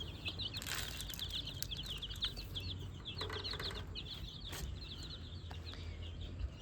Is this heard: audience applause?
no